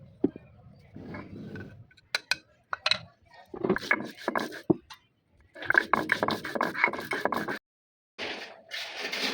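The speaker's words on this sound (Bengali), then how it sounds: "প্রথমে আমি কাজু পোস্ত বেটে নেব।" Cashews and poppy seeds being ground into a paste on a home kitchen grinder, heard as bursts of scraping, rattling grinding that start and stop, with brief silent gaps between runs.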